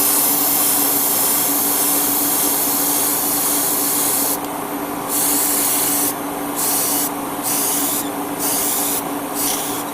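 An airbrush sprays a first coat of paint onto a Bandai model of a Yamato fleet ship, a steady close hiss that breaks off into short pulses near the end.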